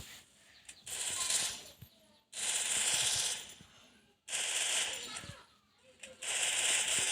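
Bursts of rapid gunfire from a shooting video game, four long rattling volleys separated by short quiet gaps, loud and close.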